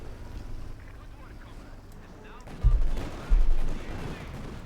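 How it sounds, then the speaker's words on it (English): A field gun fires in Company of Heroes 2, an OKW versus Soviet match: two heavy, booming low blasts close together under a rumbling battlefield background. "Field gun shoots, whiffs."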